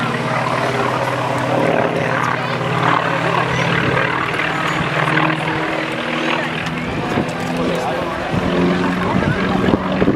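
A propeller warbird flies aerobatics at an airshow in Mesquite, Texas, a steady droning engine hum that holds loud and even throughout. Someone narrates over the engine.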